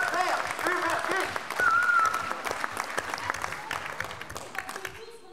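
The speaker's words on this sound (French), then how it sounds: "merci d'applaudir Hubertine Auclair" A hall audience at a socialist congress in Marseille applauds Hubertine Auclert as she comes to the platform. The clapping is dense and sustained across the crowd, with a brief high whistle early on, and it tapers slightly toward the end.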